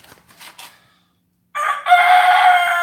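A rooster crows loudly and close by, a sustained harsh call that follows a short stretch of faint clucking and a pause.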